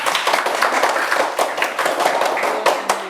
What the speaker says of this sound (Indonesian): Ya kasih tepuk tangan dulu, ya.